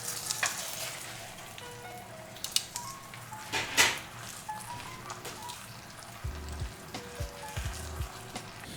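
A pork chop sizzles and fries in a pan with a maple mustard glaze, giving a steady close crackle with occasional stirring scrapes and clinks, no voices.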